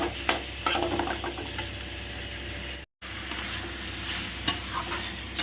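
Minced meat stir-frying in a pan with ridged gourd to follow, a steady close sizzle broken by scraping stirs and light clinks of the spatula, with a brief dropout midway.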